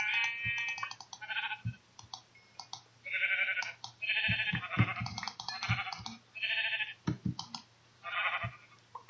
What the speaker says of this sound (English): We've got some sheeps here. We can kill them and get some mutton and wool.